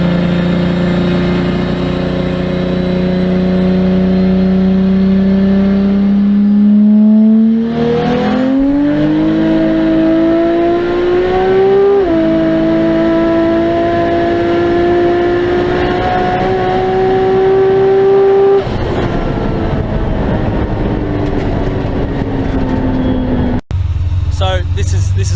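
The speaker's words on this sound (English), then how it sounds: "So this is my Calais Turbo." A Holden Calais Turbo car engine idles and then revs repeatedly, rising in pitch and falling back in several loud, close pulls before settling to a smooth idle.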